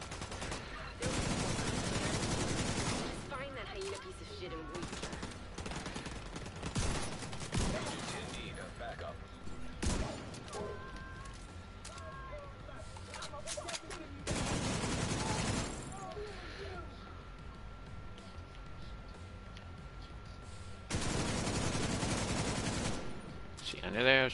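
Gunfire during a shootout in the Federal Triangle District, heavy bursts of shots clustered at the start and end with scattered single cracks between, and a voice talking over parts of it.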